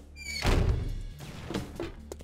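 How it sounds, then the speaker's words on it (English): An explosion in the video game 7 Days To Die lands as a deep, muffled boom that rolls on for under a second, then fades into faint rumbling thuds. "Something just blew up."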